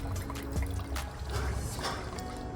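Water or solvent sloshing and trickling steadily while a paint spray gun is rinsed after painting a car, a VAZ Zhiguli, close and continuous with no speech.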